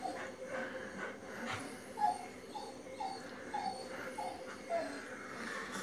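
A small white dog whimpers in a string of short, high, soft whines spaced about half a second apart, faint and close against a quiet indoor background.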